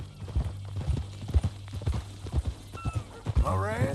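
Horse hooves clip-clop at a steady walking rhythm in Red Dead Redemption 2, fairly close, with people talking over them and a brief whinny near the end.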